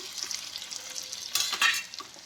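Boiled potatoes and sweet potatoes are stirred into a pan of frying ginger and green chillies, a steady soft sizzle with a couple of louder scraping stirs near the end, close and without talk.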